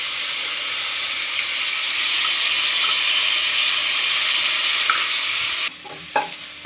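Crushed garlic and bay leaf frying in hot oil for a vegetable curry, a loud, steady, close hissing sizzle that drops suddenly near the end, followed by a brief clatter of stirring.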